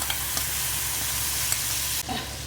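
Masala-coated fish in a frying pan gives off a dense, steady sizzle, with a few faint stirring taps and a sudden change in texture near the end, heard close and alone.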